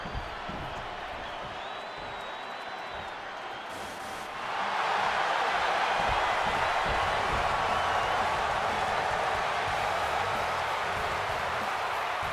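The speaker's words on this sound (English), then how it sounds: "this capacity crowd just exploded" Capacity arena crowd in the WWE 2K26 video game erupting into a loud, sustained roar of cheering for a CM Punk versus Seth Rollins match, rising sharply after a quieter hum and holding steady.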